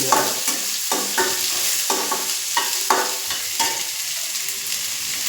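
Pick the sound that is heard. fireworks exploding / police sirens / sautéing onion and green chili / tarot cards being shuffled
sautéing onion and green chili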